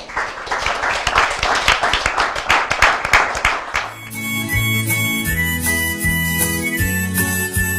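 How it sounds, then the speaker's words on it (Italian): Audience applause on an Italian motocross TV show, several seconds of brisk, close clapping that cuts off abruptly into music. "fategli un applauso"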